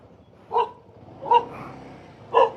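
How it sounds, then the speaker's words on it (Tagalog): A dog barks three times at the roadside near Kaybiang Tunnel, the sharp barks evenly spaced and moderately near, standing out against a quiet background. "Oops, may aso."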